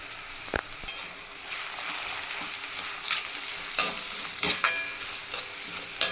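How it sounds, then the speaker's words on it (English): Chopped ginger and garlic sautéing in a pan for prawn masala, a steady soft sizzle with scattered clinks and scrapes of a stirring spoon against the pan, close and moderate in level, no talking. "chopped ginger, chopped garlic and saute it thoroughly."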